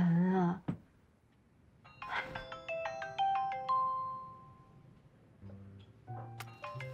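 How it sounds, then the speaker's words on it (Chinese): A phone ringtone plays an incoming call as a clear rising melody of several tones, loud and near, with a brief voice and a short rustle before it and a second burst of ringing near the end. "妈打电话来了"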